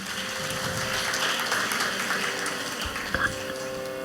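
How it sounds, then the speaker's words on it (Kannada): An audience claps steadily for young children who have just danced at a stage performance, a dense, even wash of applause that fills the whole stretch with a faint tonal hum beneath. "ನರ್ತಿಸಿದಂತಹ ಎಲ್ಲ ಪುಟಾಣಿಗಳಿಗೂ ಮತ್ತೊಮ್ಮೆ ನಮ್ಮ ಚಪ್ಪಾಳೆಯಿಂದ ಪ್ರೋತ್ಸಾಹಿಸೋಣ"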